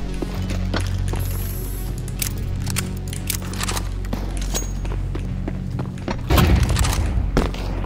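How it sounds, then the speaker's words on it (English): A flashbang grenade goes off in Counter-Strike 2, a loud broadband burst near the end over continuous game ambience, scattered thuds and footstep-like knocks. "Throwing flashbang."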